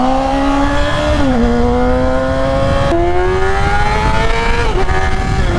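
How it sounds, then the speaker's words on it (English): A motorcycle accelerating hard from a rider's onboard perspective, its engine note loud and steady, climbing in pitch through several gear changes. "I don't force the bike to accelerate fast. It just does it."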